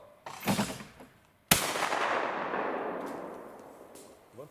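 Two shotgun blasts at an outdoor clay pigeon shooting contest, the first somewhat softer, the second a sharp loud crack with a long echoing decay trailing off for several seconds, no talk.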